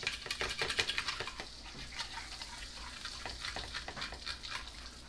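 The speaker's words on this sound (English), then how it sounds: "Let's give this a little bit of a stir around. It'll deglaze the pan a little." A pan sauce for a creamy peppercorn sauce sizzles steadily just after a flambé as it is stirred to deglaze, with light scraping clicks of the utensil against the pan, close and fairly quiet, with no voices.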